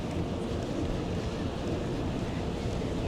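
Ferry running on open water near Tangalooma Island Resort off Brisbane, a steady low engine and water rumble mixed with wind buffeting the microphone, continuous and close throughout.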